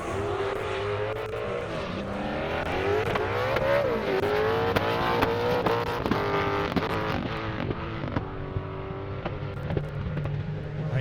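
Corvette race car at an airstrip drag event accelerating hard, its loud engine note climbing through rising gear pulls, dropping briefly between shifts, then receding into the distance.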